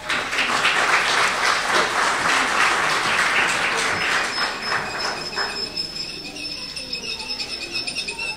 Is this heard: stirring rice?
no